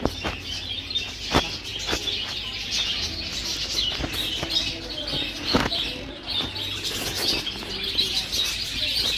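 Many birds chirp and call close by around a guest room on a trip stay, with dense overlapping tweets, occasional cooing and sharp louder calls over a steady outdoor ambience.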